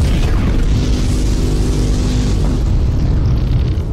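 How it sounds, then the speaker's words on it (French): A cannon blast, called an anti-spam cannon, fires as one loud, sustained explosive boom with a rumbling roar that fills the whole stretch and fades slightly toward the end. "Activation du canon anti-spam dans 3, 2, 1. Mise à feu."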